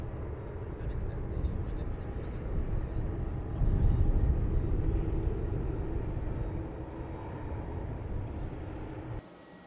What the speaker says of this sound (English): wonderful view here of the 747 as it taxis over towards the freight facilities